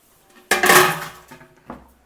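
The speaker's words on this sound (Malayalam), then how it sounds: "പാത്രങ്ങളൊക്കെ പുറത്തിട്ട്" Pots and dishes clatter as they are put out in a home kitchen: a loud metallic crash followed by ringing, then a smaller clink about a second later.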